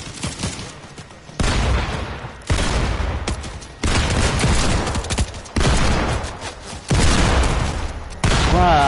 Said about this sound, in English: They're shooting at me, Andrew.